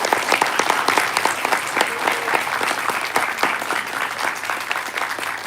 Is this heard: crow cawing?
no